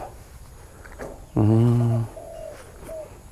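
Dove cooing in an aviary cage: one loud, close, drawn-out coo with rich harmonics, followed by softer calls, with faint background noise.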